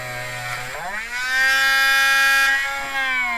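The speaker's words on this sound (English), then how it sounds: "So hopefully I can remove most of this, as I say, with power tool" A small power tool cuts the plastic of a Jakks Pacific C-3PO toy figure. A low hum jumps to a loud, steady high-pitched motor whine about a second in, then dips briefly near the end.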